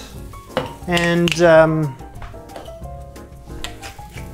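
Blanched green beans tossed in a dry pan, a short clatter and rattle against the metal with a faint sizzle, close, under a speaking voice.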